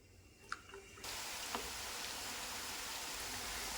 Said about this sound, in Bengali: এখন আমি গরম তেলের উপর নিমকিগুলি দিয়ে দেবো